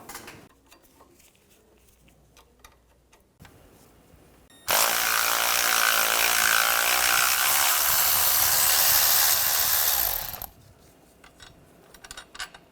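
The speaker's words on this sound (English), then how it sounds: "Use a 13mm socket. Take that nut off." A 13mm socket spins a nut off during front CV axle work on a 2013-2019 Ford Escape 2.0L. A loud, steady, whirring burst lasts about six seconds and stops sharply, with faint clicks before and after.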